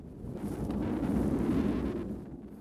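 Strong sea wind on a sailing boat rigged with storm sails, a loud low rumbling buffet against the microphone that swells and holds steady for a few seconds before easing.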